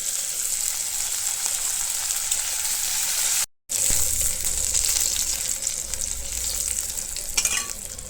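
Garlic and onion sizzle steadily in a hot pan for Bengali greens, a dense continuous frying hiss with occasional stirring scrapes, broken by one brief dropout midway; no one speaks.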